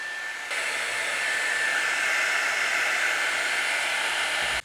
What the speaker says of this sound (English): I'm gonna hit it with the heat gun